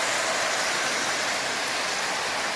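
An early Marx 666 toy train motor runs steadily, giving off a continuous bright whirring hiss at a constant level with no pauses and no voices.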